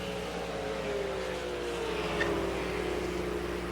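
Super late model race cars on an iRacing dirt track, a continuous engine drone with a rising and falling pitch as cars pass through a corner, moderately loud and steady without talk.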